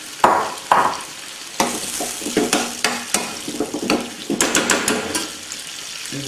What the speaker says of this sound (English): start adding vegetables. First thing to go in is this onion pepper mix, about 2 chef spoons of that